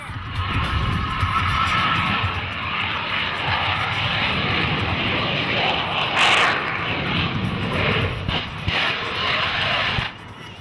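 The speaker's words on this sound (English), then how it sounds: "An engine failure turned this airshow practice into a fight for survival, giving the pilot only seconds to eject before the fighter jet exploded into a massive fireball." Fighter jet engine roaring during airshow practice, a loud steady broadband rumble lasting the whole stretch, with a brief sharper burst midway and faint voices underneath.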